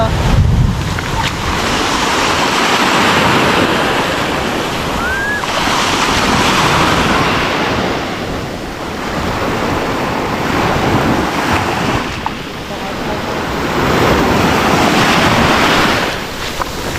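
Steady rush of surf breaking along a shore at Ligaya, Occidental Mindoro, with wind buffeting the microphone throughout; the wash swells and recedes in slow cycles.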